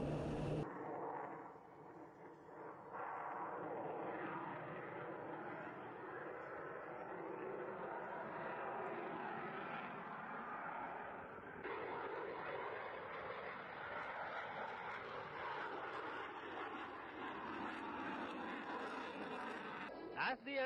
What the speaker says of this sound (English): Imagine such a fast aircraft carry out such a short turn.